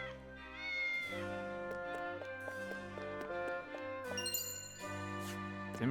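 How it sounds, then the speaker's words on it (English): A cat in the video game Triangle Strategy meows in several clear, drawn-out calls over soft chiming game music and tinkling effects. "Just a cat."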